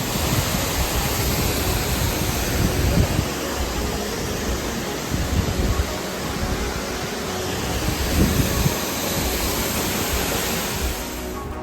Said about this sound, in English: when we finally heard the sound of the waterfall, it was like pure magic to us